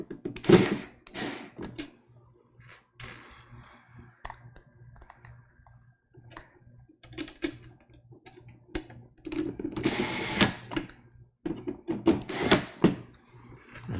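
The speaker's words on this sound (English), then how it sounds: "I can use my electric screwdriver to just tighten these down real quick" An electric screwdriver tightens down brackets inside a computer during an upgrade, heard as short bursts of whirring broken up by clicks and handling knocks; close up, with no speech.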